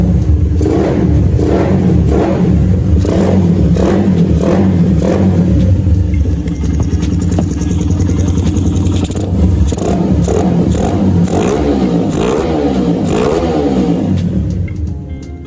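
A motorcycle engine fitted with a PWK carburetor, loud and close, idling roughly and then revving repeatedly in short bursts with a rattly, buzzy tone.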